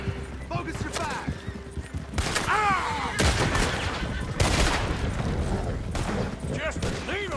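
Heavy gunfire in Red Dead Redemption 2 as a coach approaches, repeated loud volleys and scattered shots over busy battle noise, with shouting voices mixed in throughout.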